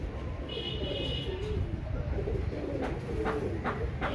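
Heera Laal breed pigeons coo in low, rolling warbles, repeating close by over a constant background rumble.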